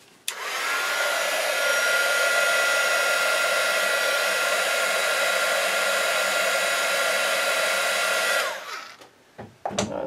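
A heat tool blows continuously for about eight seconds, drying Nouveau drops on a handmade card. Its loud, steady whooshing roar holds level, then cuts off and leaves a few faint handling sounds.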